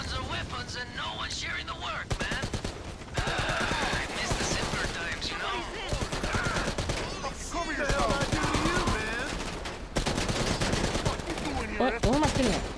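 Sustained automatic gunfire in GTA Online, rapid shots rattling almost continuously under music and game sounds, with a voice talking over it.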